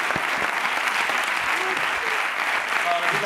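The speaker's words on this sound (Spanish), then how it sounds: "Antonio, un aplauso para esta gente." A studio audience applauds steadily through the whole stretch on the grand finale of a Spanish late-night comedy talk show, dense and continuous clapping with no break.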